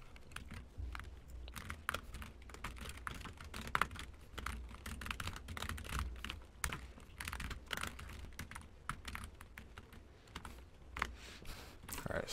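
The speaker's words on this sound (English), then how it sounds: "I'm going to just type everything out real quick" Someone types on a computer keyboard in a long, fast, continuous burst of close, light clicks with no talking.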